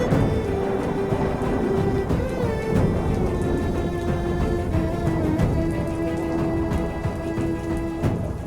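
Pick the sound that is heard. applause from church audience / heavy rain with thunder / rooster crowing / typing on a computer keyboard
heavy rain with thunder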